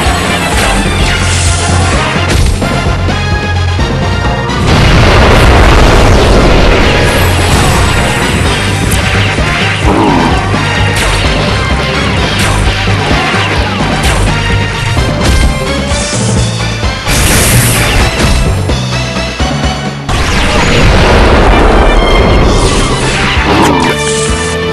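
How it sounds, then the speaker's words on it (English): Rocket launcher explosions and crashing impacts in the mobile strategy game Metal Slug Commander, dense and continuous over a loud bed of game music and effects, with repeated heavy hits throughout. "Heavy machine! Rocket launcher!"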